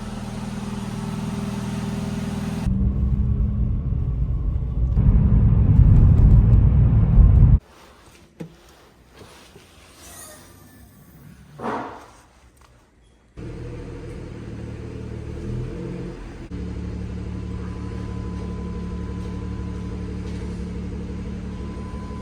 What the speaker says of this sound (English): let's get this car on the road